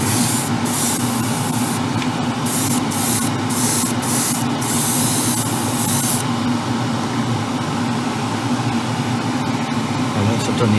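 An airbrush or spray gun coats the bodywork of an Alpha Model Ferrari 812 Superfast scale model with paint, sending loud hissing bursts in short pulses and then one long continuous spray over a low background hum.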